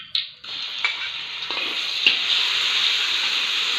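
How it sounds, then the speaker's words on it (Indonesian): Shallots and garlic hit hot oil with a sharp sizzle that settles into a steady frying hiss, with a few scraping stirs, as noodles are stir-fried for Indonesian mi gulung; close and fairly loud, no talking. "selanjutnya kita akan menumis mie-nya"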